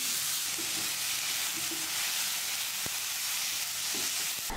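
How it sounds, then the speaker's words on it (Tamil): Tomatoes sautéing in oil in a pan for radish chutney, a dense, steady sizzle close up with a few soft stirring knocks, nobody talking. "இதெல்லாம் சேர்த்துட்டு நல்லா வதக்கி விட்டுடலாம்"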